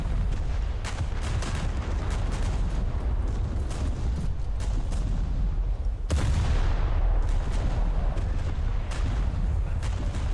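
Battleship naval gunfire in War Thunder, a dense, loud roar of booming salvos and rumbling blasts without a break, with a heavy detonation about two thirds through.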